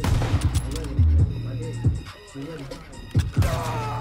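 Shotgun and other gunfire from the video game Call of Duty WW2 cracks in a quick burst of loud shots, then a few more, with a player's voice talking over the game audio.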